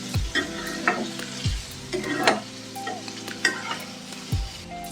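Boiled vegetables stir-fried in a pan for blue fried rice: close, steady sizzling under repeated scraping and stirring strokes, with a few sharper clanks from the spatula against the pan.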